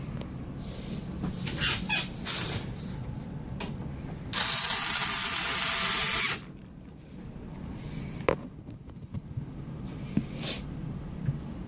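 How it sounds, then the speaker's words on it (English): A power drill whirs in short bursts, with one long steady whine in the middle, alongside clicking and rattling of a metal case as screws are driven into a computer case. "Let's go ahead and drill these screws back in."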